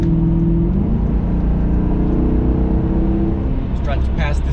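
A Maserati GranTurismo's engine drones loudly from inside the cabin as it pulls out to pass another car, a steady sustained roar with shifting pitch and a voice speaking near the end.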